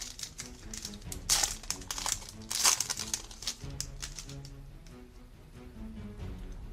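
A trading card booster pack being torn open and handled, with bursts of crinkling foil wrapper and shuffled cards, fairly close, against a low background hum and no talking.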